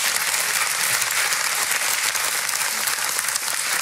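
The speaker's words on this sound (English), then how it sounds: "What you said was covered by applause." A studio audience at a televised political debate claps loudly and continuously, a dense, close wash of applause filling the whole few seconds with no voice cutting through.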